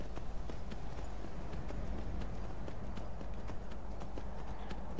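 Horse hooves gallop steadily in the video game Skyrim, a fast continuous clip-clop rhythm, loud and close, layered over a dense rumbling game soundscape with no talk.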